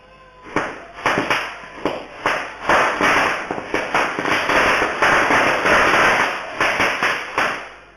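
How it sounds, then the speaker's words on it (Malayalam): Firecracker-like explosives are set off during a CPI candidate's election victory celebration in Maranchery panchayat, ward 13. A rapid, irregular string of a dozen or more sharp bangs and cracks sounds fairly close, with a few brief gaps. "ആഹ്ലാദ പ്രകടനത്തിനിടയിൽ സ്ഫോടന വസ്തുക്കൾ എറിഞ്ഞും"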